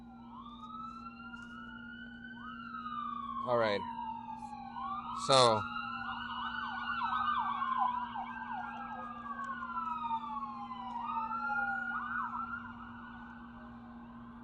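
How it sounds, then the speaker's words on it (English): Multiple wailing ambulance sirens sweep up and down at a distance, overlapping as they pass, with a steady hum and a brief spoken phrase. "don't mind the ambulances there"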